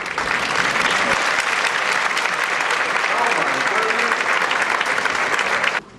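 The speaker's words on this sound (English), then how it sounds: "let's have a warm round of applause for our composer, Nkiru Okoye" Concert audience at a children's orchestral concert gives the composer a loud, warm round of applause, dense clapping throughout before it cuts off abruptly near the end.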